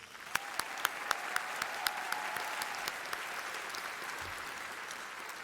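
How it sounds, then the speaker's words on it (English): Graduates at a winter graduation ceremony applaud themselves, a faint wash of distant clapping from a large crowd with a few sharper, closer claps standing out early on. "Give yourselves another round of applause."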